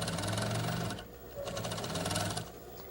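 A sewing machine stitches down one side of an inserted neckline placket seam in two rapid whirring bursts separated by a short pause, moderately close and with no talking.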